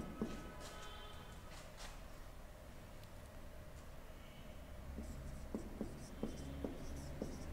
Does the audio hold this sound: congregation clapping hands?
no